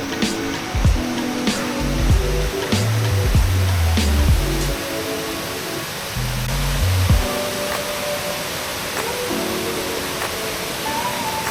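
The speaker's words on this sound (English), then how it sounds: "What an impressive waterfall." Steady broadband rush of a waterfall at the start of a waterfall park near Luang Prabang, Laos, with low tonal murmurs like distant voices passing under the constant roar.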